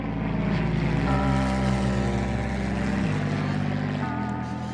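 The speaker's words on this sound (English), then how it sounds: "I fly the mail plane for Chartier, based out of Alice Springs" A propeller mail plane flying out of Alice Springs drones loudly and steadily, its engine pitch stepping down in stages over several seconds, close and with no voices.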